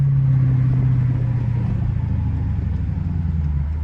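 A straight-piped Dodge Charger R/T runs loud and close, its deep exhaust droning and revving steadily throughout with a low, continuous rumble.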